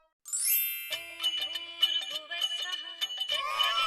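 A phone ringtone plays alone, a bright chiming tune of quick, tinkling electronic notes after a sharp opening tone, fairly close and moderately quiet.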